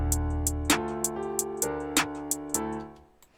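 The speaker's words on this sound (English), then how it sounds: "So that makes sure that our 808s are in key with our sample." Deep 808 bass notes in D4 play under a melodic sample in a drill beat, with crisp hi-hat ticks and a sustained low tone at the start, the rhythm repeating steadily before fading out.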